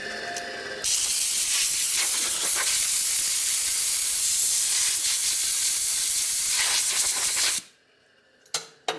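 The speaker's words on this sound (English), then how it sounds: "This is my airline." A compressed air line on a workshop bench beside a 2008 Buell Blast motorcycle lets out a loud, steady, close hiss for several seconds before cutting off abruptly, followed by a couple of faint knocks.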